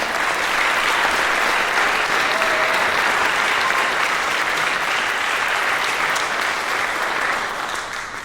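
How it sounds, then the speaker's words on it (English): Dense, sustained applause from a gala audience for a youth orchestra, loud and steady for several seconds before tapering slightly at the end. "Please give them a round of applause."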